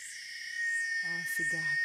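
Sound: cicada singing

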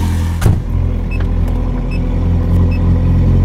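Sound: Ferrari 430 Scuderia engine starting with modified exhaust

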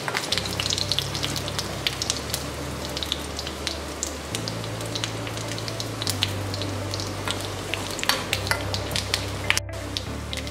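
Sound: onions sautéing in a pan for coconut chutney

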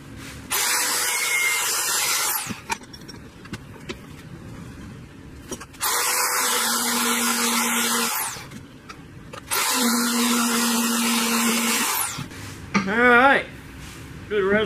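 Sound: grinder working on custom car pedal parts

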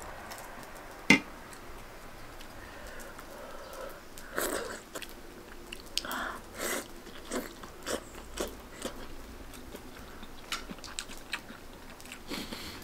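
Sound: eating stewed lamb from mutton rib soup

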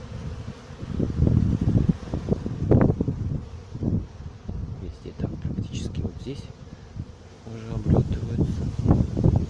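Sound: honeybees buzzing on mass orientation flight at hives

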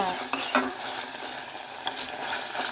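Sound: ginger garlic paste frying in a pan

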